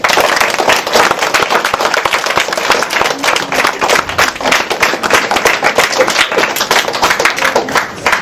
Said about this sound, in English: Boys and girls, can we please give the high school students a round of applause?